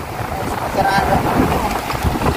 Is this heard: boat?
yes